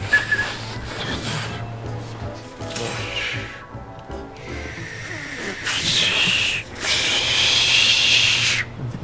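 Breathy hissing air forced through teeth in several bursts, an attempted whistle that never quite forms a clear tone.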